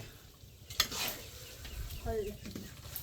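Noodles and bean sprouts are stir-fried in a pan for a home-cooked lunch for rice-planting workers. Soft scraping stirs and a low sizzle come close up, with a sharper clatter near the start and faint background sounds.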